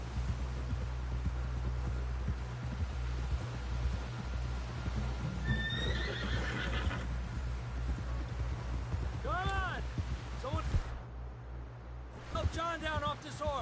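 A horse in the Red Dead Redemption 2 video game gallops with steady rapid hoofbeats under a low game score, then lets out several loud neighs and whinnies near the end.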